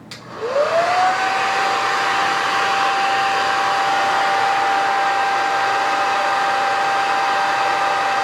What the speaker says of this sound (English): I just have a Revlon diffuser, and I've had this diffuser for a while. So I'm just going to use that. I'm going to put it on warm and low.